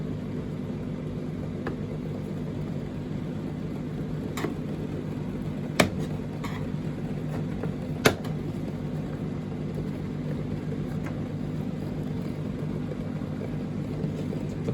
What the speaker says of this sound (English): it does sound like there's a pump running